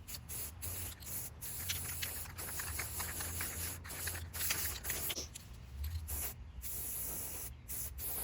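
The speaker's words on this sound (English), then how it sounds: "I'm going to spray paint this and maybe give these another fresh coat of the white using the Rust-Oleum 2X white" Rust-Oleum 2X white gloss spray paint hisses from an aerosol can in repeated bursts with brief pauses, close and fairly steady, no voices.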